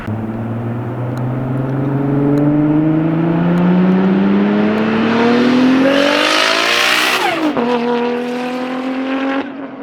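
An 800 HP tuned Toyota Supra approaches and roars past at speed, its engine climbing to a loud high-pitched howl before the pitch drops sharply as it passes and recedes, with no voices.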